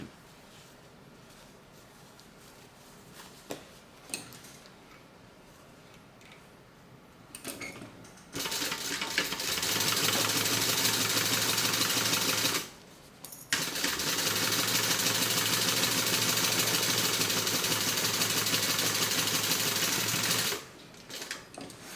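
A sewing machine stitches the side of a bag. It runs in long, steady bursts that start and stop with a brief pause between runs, and quieter handling clicks come before it.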